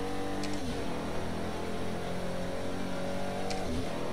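A Pagani Huayra BC driven in Project Cars 2 roars loudly and continuously, its engine note rising and falling between two quick gear shifts, with no talking over it.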